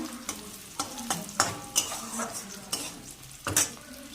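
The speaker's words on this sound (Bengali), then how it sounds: "ভাজা হচ্ছে পেঁয়াজটা" Onion frying in a pan with bay leaf for a prawn and cauliflower roast: soft steady sizzle broken by repeated sharp clinks and scrapes of a utensil stirring against the pan, close by, no voices.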